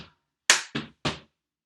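Body percussion in a stomp rhythm: one sharp stomp or clap followed by two more evenly spaced heavy thuds, each crisp and close, with short silent gaps and no voices.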